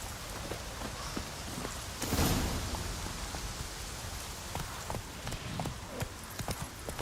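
Roach the horse gallops through The Witcher 3 in a steady rapid clip-clop of hooves, set against a loud continuous hiss like rain, with a brief louder swell early on.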